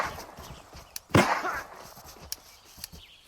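Pepperbox pistol fire in a video game: one sharp, loud shot stands out among a few fainter pops and clicks scattered over a few seconds, set against a quiet background.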